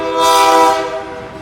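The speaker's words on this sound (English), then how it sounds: "and here comes the train." A train on Vancouver Island near Nanaimo towing tanker cars sounds a loud, sustained horn blast close by, with the rumble of the passing train beneath.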